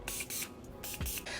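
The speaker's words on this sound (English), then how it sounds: "I'm going to use my Morphe Mini Continuous Set and Mist to set my whole entire face" Morphe Mini Continuous Set and Mist setting spray misted over a face in a run of short, close, soft hissing bursts separated by brief pauses.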